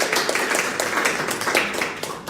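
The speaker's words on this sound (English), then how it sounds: "Big round of applause." Steady audience applause during a quiz segment of a live show, with dense, continuous clapping at an even level for the whole stretch.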